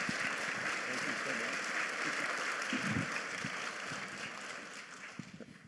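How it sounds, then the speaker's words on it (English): An audience at an event in Erie honoring Hall of Fame football player Fred Biletnikoff gives a sustained round of applause, a broad, even patter of many hands with faint crowd murmur beneath. "a round of applause for Mr. Fred Biletnikoff, Erie native"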